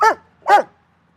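Two sharp dog barks, close and loud, spaced about half a second apart, then silence.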